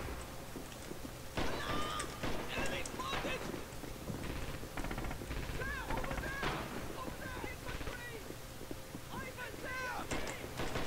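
Machine gun fire in the World War II shooter Red Orchestra 2: Heroes of Stalingrad, scattered bursts and cracks running throughout under a busy battlefield din, with voices talking over it.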